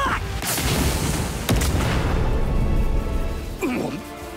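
Explosions in the video game One Piece Odyssey during a boss fight with Luffy in Gear 4 against Doflamingo: loud rumbling blasts with sharp bursts near 0.5, 1.5 and 3.6 seconds, with game sounds layered over them.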